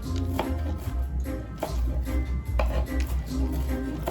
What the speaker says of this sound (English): So I just use my knife to cut it up a little more smaller than how the grater cut it.